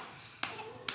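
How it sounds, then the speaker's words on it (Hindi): Two sharp hand claps from children during a story reading, about half a second apart and fairly close, over a faint background hum, with no speech. "किस खुशी में तालियां पीट रहे हो तुम लोग?"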